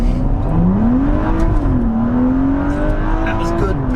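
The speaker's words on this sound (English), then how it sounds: "Launch and see how quickly we can get to 60." A BMW M135i launches hard on a dyno, its engine note rising in a strong, steady pitch sweep over a loud roar of rollers and wheels for several seconds, with a voice faintly present.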